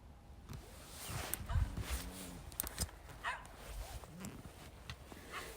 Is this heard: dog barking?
yes